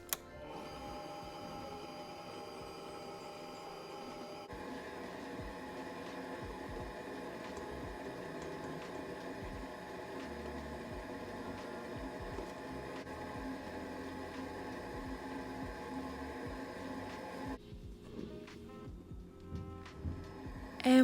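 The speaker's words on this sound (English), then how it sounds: "you want to let the mixer go for about 5 to 7 more minutes, waiting for it to form a ball around the hook" A stand mixer with a dough hook kneads cinnamon roll dough made with flour, giving a steady low motor hum and whine with faint rhythmic thumping, continuous and close, changing tone near the end.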